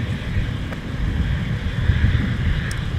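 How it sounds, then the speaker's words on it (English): Gusty wind buffets the microphone outdoors at a busy winter airport during deicing operations, with a continuous loud roar and a rumble that swells and eases throughout. "it's getting a little gusty out here now"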